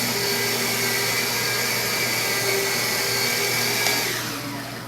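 A lightweight compact rotary buffer weighing about five pounds runs with a steady, close, whirring motor drone, then begins to wind down at the end.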